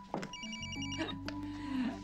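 A telephone rings indoors in a home setting, its repeating electronic bell bursts sounding clearly over background music and room noise.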